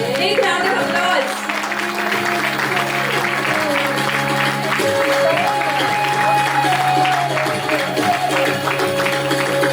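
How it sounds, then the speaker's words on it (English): Applause rises from the audience at a school annual day show, a dense run of clapping mixed with crowd voices and music-like tones, loud and close throughout. "Big round of applause."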